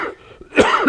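A single sharp cough from a man during a calculus lecture, close and abrupt, preceded by a faint breath and a small throat catch.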